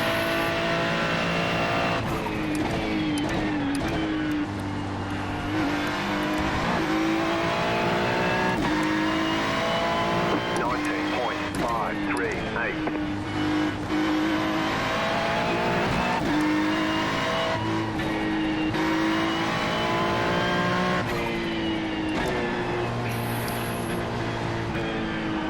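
A Ferrari GT3 car racing in iRacing at the Charlotte Roval, a loud continuous engine roar rising and falling through gear changes and downshifts, with occasional tire squeal.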